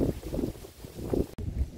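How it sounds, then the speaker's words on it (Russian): Strong wind buffets the microphone on a beach at Watamu, Kenya, a steady low rumbling roar with gusts rising and falling and a brief dropout near the end, with no clear talk. "Ой, ветер какой вообще,"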